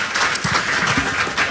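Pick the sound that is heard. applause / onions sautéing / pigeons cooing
applause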